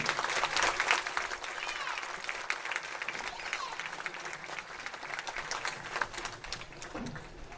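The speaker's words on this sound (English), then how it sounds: "Let's give a big round of applause for the American Legion." A crowd at a high school football game applauds for the American Legion, giving steady, fairly distant clapping that keeps up the whole time with a faint voice underneath.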